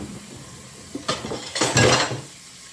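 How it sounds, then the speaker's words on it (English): Dishes are washed at a kitchen sink: several close, sharp clinks and clatters of dishes and cutlery, bunched together over a soft wash of running water. "Wash these dishes,"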